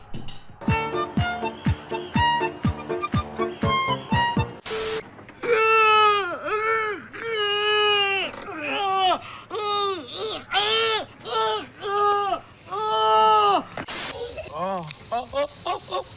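Cartoon children wail and sob in long, rising cries that repeat one after another, loud and close, following a burst of rhythmic music at the start.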